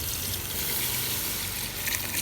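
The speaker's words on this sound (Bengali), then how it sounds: "এখন আমি পানি দিব। তারা দিয়ে রান্না আছে, এই যে আমি পানিটা দিয়ে দিচ্ছি।" Water pours steadily into whole lentils in a cooking pot, a close continuous gushing splash with no voices.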